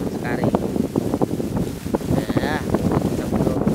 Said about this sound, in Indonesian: Kemungkinan Anda mendengar suara-suara angin sangat kencang sekali